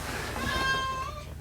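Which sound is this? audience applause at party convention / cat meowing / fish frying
cat meowing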